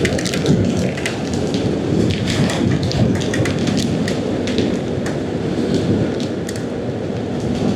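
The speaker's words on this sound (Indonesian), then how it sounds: "Si hujan." Steady rain pours down during a motorbike tour on the Trans-Sumatra road, a dense continuous hiss with pattering drops throughout, close and loud, with no talking.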